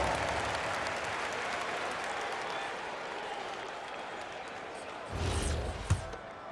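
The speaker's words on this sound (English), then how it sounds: "Give yourself a round of applause." Distant crowd applause and cheering from a basketball video game fills the background steadily, swelling briefly near the end with a sharp thump.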